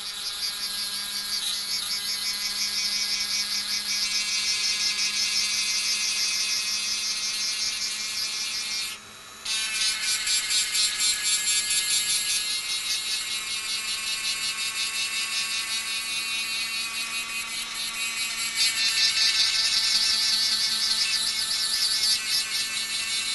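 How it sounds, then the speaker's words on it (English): A rotary grinding stone wears away the outer surface of a seashell in a continuous high-pitched whine, close and steady, with a brief break partway through, then carrying on a little louder. "So that's ground away all of the outside area"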